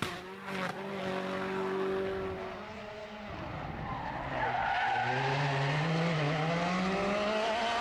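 A rally car with a broken axle limps along on three wheels, its engine revving hard in rising and falling bursts with skidding tire noise, loud and close throughout.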